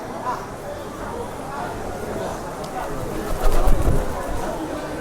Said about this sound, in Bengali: এই যে পায়রাগুলো উৎসর্গ করে দিয়েছে সবাই